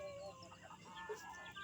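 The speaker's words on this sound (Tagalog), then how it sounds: "Kanina ang kain ng mga alaga kong mga manok." Backyard chickens cluck softly and steadily at close range as they eat scattered feed, with a few brief higher calls rising over a low, continuous farmyard background.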